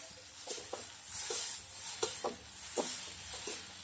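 Boiled, oiled noodles are stirred and tossed in a pan for a Mexican-style dish, with soft repeated scraping and clacking strokes against a steady background hiss.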